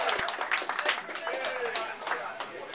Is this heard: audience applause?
yes